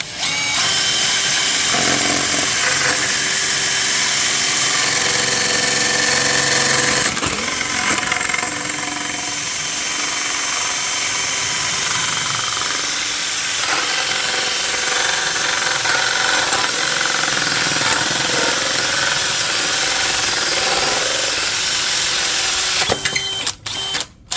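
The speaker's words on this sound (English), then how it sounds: "So I just drill both of them at the same time." A power drill whirs loudly and continuously, drilling two pieces at once while building a dehydrator, its pitch wavering as it bores through, with a brief pause partway and a few clicks near the end.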